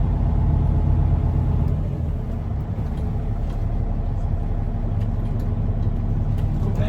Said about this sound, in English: Just release the brake a little bit, it starts to roll back.